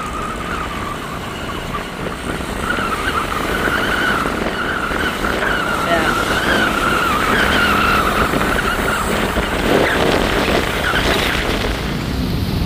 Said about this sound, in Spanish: Se queda el puro tráfico pesado.